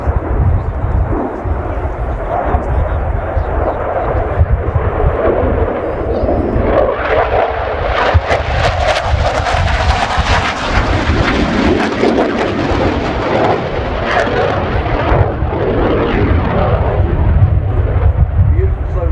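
Swedish Air Force JAS-39C Gripen jet with a General Electric F414 engine in a flying display at RIAT 2019, a loud, sustained broadband roar that swells toward the middle as it passes and stays strong to the end.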